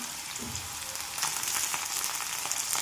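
Onion, cumin and curry leaves sizzle in hot oil after mustard seeds have popped, for a garlic cauliflower sabzi. A steady close-up hiss runs throughout and grows louder and brighter partway through, with faint crackles and no talking.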